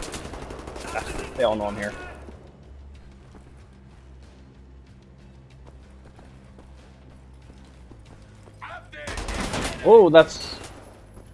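Gunfire from two weapons fired at once in the shooter Wolfenstein: The New Order, with a short loud burst near the start and another sharper burst near the end, a quiet stretch in between, and someone talking over the shots.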